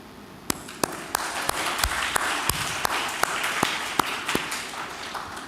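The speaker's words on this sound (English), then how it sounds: "The youngest student that I want all of you to applaud is Miss Tan" Scattered audience applause at a Vietnamese-Belgian master's graduation ceremony, with sharp individual claps standing out over a softer bed of clapping hands in a large room.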